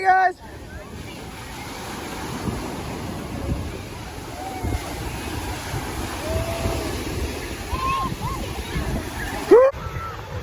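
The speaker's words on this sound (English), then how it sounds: "These waves, man, they're really killing." Ocean waves wash steadily onto a beach under gusty wind noise, with brief voices and a sharp whistle-like squeak near the end.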